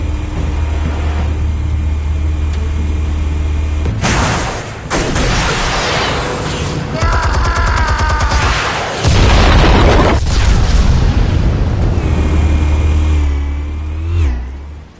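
Explosions in a Batman video game: loud booming blasts with engine roars and crackling debris, several heavy bursts across the stretch over a low rumbling backdrop.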